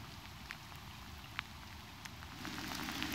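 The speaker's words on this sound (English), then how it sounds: "It is absolutely pouring down." Heavy rain pouring down outdoors in Victoria, BC, a dense continuous hiss with scattered sharper drop impacts, steady and enveloping with no voices.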